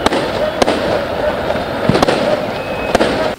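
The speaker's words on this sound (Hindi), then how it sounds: "जीत का डंका पीटने के लिए उन्होंने इतनी आतिशबाजी की कि रात के अंधेरे में आसमान जगमगा गया।" Fireworks burst at night over Lisbon streets as football supporters celebrate a club win, with a continuous crackling roar broken by several sharp, loud bangs.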